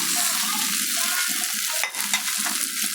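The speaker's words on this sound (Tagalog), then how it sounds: "Ilagay na po natin yung ating soya chunks" Soya chunks go into chili paste in a frying pan, giving a loud, continuous sizzle that swells briefly about two-thirds of the way through as the pieces are stirred in.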